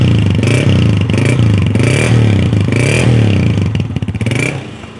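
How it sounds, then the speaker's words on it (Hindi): A 2007 Honda 125 motorcycle engine idling and being revved close up, loud steady putter with several rising rev surges before it eases off at the end. "हाँ जी, 4645 number model 2007 Honda 125 down model है। जो इसका साउंड सुन लेते हैं"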